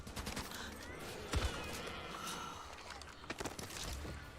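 Assault rifle fire in the zombie shooter Back 4 Blood, scattered bursts and single shots crackling among clatter and movement noise, with one heavier boom near the middle, moderately loud and without talk.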